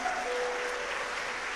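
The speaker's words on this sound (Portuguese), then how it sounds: "aplauda ao Senhor." Church congregation applauding to welcome visitors during a service, a steady dense wash of clapping at moderate level with no pauses.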